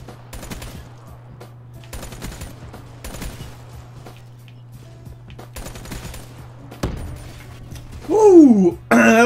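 Bursts of video game gunfire scoring headshots, several loud clustered volleys separated by short gaps, with a voice briefly rising over sharp sounds near the end.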